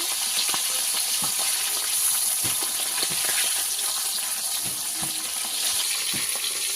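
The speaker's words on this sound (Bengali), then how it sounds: "উল্টে পাল্টে মাছগুলো ভেজে নেব।" Fish pieces being flipped and fried in oil, a continuous bright sizzle with irregular crackles and occasional clinks of a utensil against the pan, close and alone.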